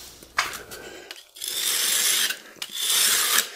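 Steel chisel being sharpened freehand on a stone, working for a clean edge and a burr across the full width: repeated rasping strokes, close and fairly loud, with brief pauses between passes and no talk.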